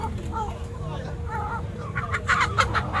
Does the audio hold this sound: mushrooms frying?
no